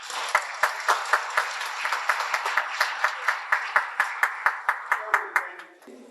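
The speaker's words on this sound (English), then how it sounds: "Give them all a round of applause." At a multicultural launch of the Salvation Army Red Shield Appeal, an audience claps in a steady, rhythmic unison beat, roughly two claps per second, fairly close and clear, fading out at the end with voices faintly beneath.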